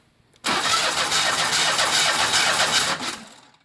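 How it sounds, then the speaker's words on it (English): A car engine spun over by its starter with the spark plugs removed, a steady loud whirring crank with no firing, running continuously for about two and a half seconds before winding down. "if I crank it over with the spark plugs out, it's not building any pressure in the cooling system"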